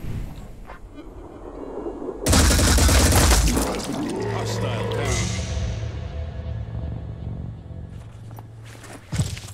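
Automatic weapons fire in the turn-based strategy game Phoenix Point, a loud burst starting abruptly a few seconds in and rolling on with a sustained rumble, then a sharp final crack near the end, with faint voice lines underneath.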